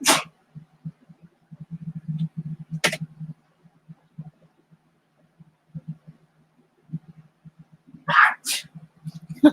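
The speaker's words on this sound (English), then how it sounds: "My son's going on a sneezing fit." A boy sneezes repeatedly, with sharp bursts near the start, just before the three-second mark, and a close pair near eight seconds, separated by low rumbling background noise and faint movement sounds.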